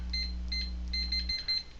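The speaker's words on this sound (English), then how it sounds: "You'll hear 3 beeps." A Rossalare security keypad reader gives a series of short, high, clear confirmation beeps over a low electrical hum, with the hum dropping away near the end.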